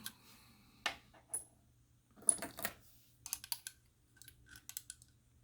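Brass cartridge cases being trimmed during handloading case prep give off scattered metallic clicks and short scraping bursts, close and fairly quiet, with gaps between.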